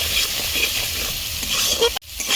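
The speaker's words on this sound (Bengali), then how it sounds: "ভালো করে নেড়ে দেবো।" Spices with chili powder, cumin powder and salt frying in a pan, a dense close sizzle with stirring scrapes, cut off abruptly near the end.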